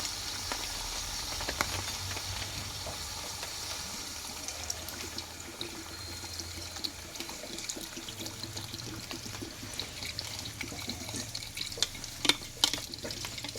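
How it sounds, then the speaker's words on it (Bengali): Plain water poured into a pan of Bengali mutton that has been sautéed until tender, giving a soft, steady watery trickle and faint sizzle that runs throughout, with small clinks near the end. "এবার এখানে আমি জলটাকে দিয়ে দেবো"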